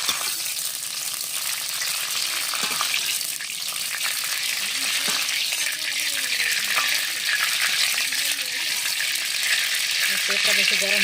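Raisins frying in hot oil in a wok, a continuous loud bubbling sizzle with faint clinks and scraping of stirring and a faint voice murmuring underneath.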